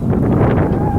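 Wind gusting around a small battery-charging wind turbine, a steady broadband rush with low rumble and microphone buffeting that continues without a break for about a second and stays loud and close.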